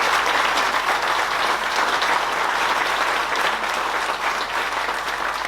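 Audience applause at a presentation event, a dense, steady wash of clapping from a large crowd, loud and sustained for the whole stretch without a break.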